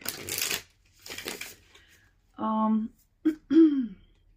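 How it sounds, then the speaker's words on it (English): A deck of cards gets shuffled vigorously for a tarot-style reading, two quick papery riffling bursts close by, followed by throat clearing and brief vocal noises. "We're going to profusely shuffle this deck."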